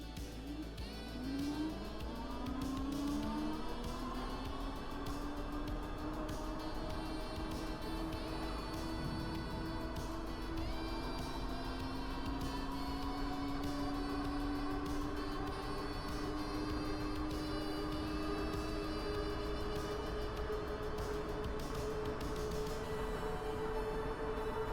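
A Troxus Lynx T-Scram electric scooter in pedal assist mode 5 accelerating to about 28 at top speed, its motor whine climbing steadily in pitch and then holding, with a constant rush of wind and road noise throughout.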